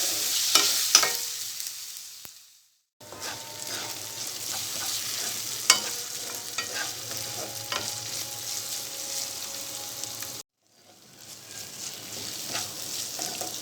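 Tomato pieces cooking in a pan for Rayalaseema-style uggani, a soft continuous sizzle with occasional stirring scrapes, close and moderately quiet, broken by two short silent gaps.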